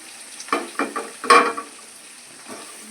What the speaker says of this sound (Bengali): ভালো করে এটাকে একটু ভেজে নেব